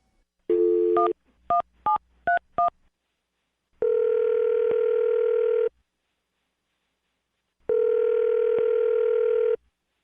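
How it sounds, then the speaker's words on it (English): A phone number is dialed: a short burst of touch-tone beeps, then two long, evenly spaced ringback tones with silence between them, clear and alone. "I'm going to dial his phone number right now."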